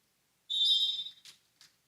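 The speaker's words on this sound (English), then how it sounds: "And Willett gets the whistle" A referee's whistle at a volleyball match gives one sharp shrill blast of about three-quarters of a second, followed by two brief faint chirps, heard alone in a quiet hall.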